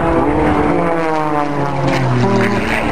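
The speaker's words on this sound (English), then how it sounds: "See how he takes that Edge 540 through the course." Edge 540 race plane flying the Red Bull Air Race course in London, its propeller engine droning loudly and steadily throughout, with the pitch sliding and shifting as it manoeuvres past.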